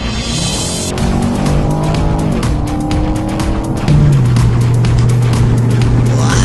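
Chevy SS sedan with aftermarket exhaust and headers accelerating hard through manual-shift gears, a loud, close V8 roar climbing in pitch with a clear upshift partway through, then pulling on strongly.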